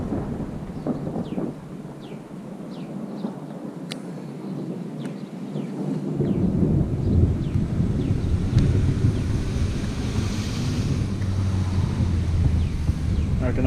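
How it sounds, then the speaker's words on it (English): Thunder rumbling low and continuous outdoors during a light sprinkle of rain, with wind buffeting the microphone and a faint, steady patter throughout. "It's still sprinkling here at the moment. And thundering."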